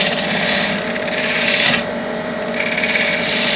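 A small skew chisel rough-turns wood on a lathe, giving a steady, loud scraping whir with a constant motor hum underneath and a brief sharper bite partway through.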